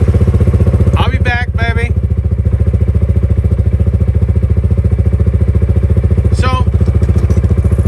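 A CFMOTO ZForce 500 side-by-side runs with a steady, loud pulsing engine drone close by, while someone talks briefly over it.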